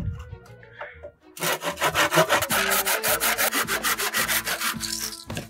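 A hand saw cuts wooden sticks for a homemade wooden toy horse: after a short quiet start, steady rhythmic back-and-forth strokes rasp loudly and closely through the wood, with no talking.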